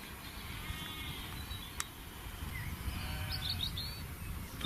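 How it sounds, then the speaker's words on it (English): Sheep bleating faintly in the distance outdoors at night among the Pendle witch country fields, a few thin calls over steady low rumble, with brief bird chirps near the end. "But the sheep are still lively."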